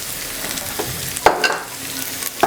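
Red, green and yellow capsicum sizzling in a pan, a steady soft fry with a few sharper crackles and stirring clinks, no talking.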